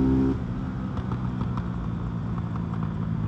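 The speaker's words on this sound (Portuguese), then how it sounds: "Essa moto aqui ganhou uma força de arrancada aqui." Honda Titan 150 carbureted motorcycle fitted with an SFX F-22 exhaust, its engine running close by with a steady, throaty low rumble and a few faint higher blips, no voices over it.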